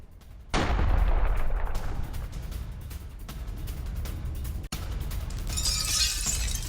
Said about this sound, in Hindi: यहाँ पे एक बड़ा धमाका किया गया है